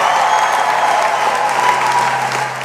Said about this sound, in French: Je vous demande un tonnerre d'applaudissements pour le fondateur de la France Insoumise